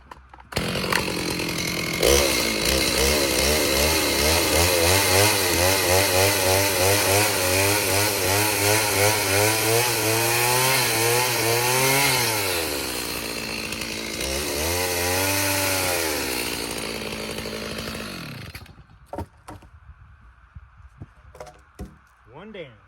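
A Stihl MS 310 chainsaw with a 32-inch bar trims wood. The engine roars loud and close with rising and falling revs for most of the span, then cuts out and leaves quiet handling noise at the end.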